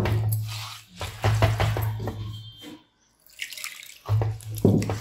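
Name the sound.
water poured into oats and curd dosa batter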